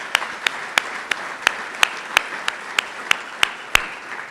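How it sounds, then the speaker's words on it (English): Audience at a business awards event claps over a soft crowd wash, with loud, evenly spaced rhythmic claps punctuating it about three times a second, close and prominent. "Give yourself a round of applause."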